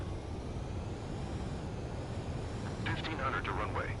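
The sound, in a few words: aircraft landing on a carrier in the video game Ace Combat 7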